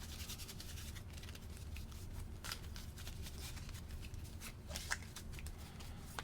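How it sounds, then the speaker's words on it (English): Playing cards for a board game shuffled in a quiet room, a steady stream of soft, close rubbing and flicking sounds over several seconds with small rustles and no talk. "I'm gonna shuffle these real quick."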